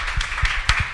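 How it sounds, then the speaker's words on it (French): Scattered hand claps from a live podcast audience at a Marais pop-up store, a handful of sharp, separate claps rather than full applause. "Je crois qu'on peut quand même vous applaudir dans le public."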